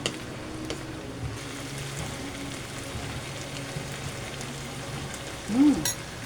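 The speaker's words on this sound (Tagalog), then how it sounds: "Lagay ko na yung tofu na pinirito natin." Fried tofu tossed into sautéing vegetables for lumpiang prito, sizzling steadily in the pan at close range, with a brief stir or scrape near the end.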